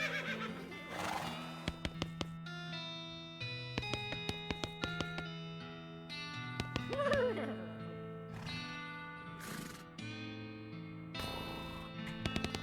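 Horses neighing in the West of Loathing video game, several whinnies over a melodic game soundtrack with hoof clip-clops and plucked musical notes.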